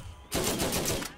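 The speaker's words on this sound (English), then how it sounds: "Let's just throw Scorpio turret out right now." Rapid automatic gunfire from a Scorpio turret in the video game Borderlands, a loud sustained burst of shots lasting under a second after a brief quieter lead-in.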